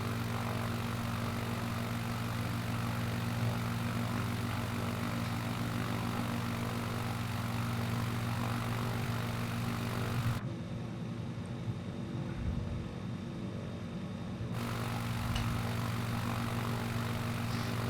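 Steady droning propeller aircraft engine in Microsoft Flight Simulator 2020 near Toulouse, a continuous even hum with a brief dip in the upper range partway through, heard alone with no talking.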